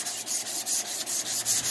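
A sanding block scrubs back and forth over a 1979 Ford F-150 truck body in a steady rhythm, each gritty stroke clearly separated, close up with no talking.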